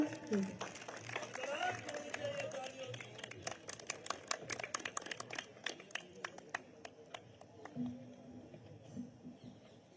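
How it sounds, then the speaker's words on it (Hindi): An audience at an outdoor 'Run For Yoga' event for International Yoga Day applauds to welcome an MLA, with scattered, uneven claps building over the middle seconds, moderately near, beneath a steady murmur of voices and crowd noise. "तालियों से स्वागत कीजिए सर का"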